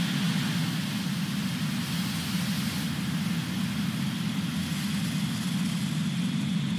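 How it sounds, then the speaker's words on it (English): SpaceX Falcon 9 rocket engines thunder at liftoff from Cape Canaveral, a loud, continuous roaring rumble heard from a distance, steady with no voices over it. "ignition, engine full power, and go"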